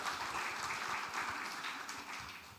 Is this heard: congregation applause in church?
yes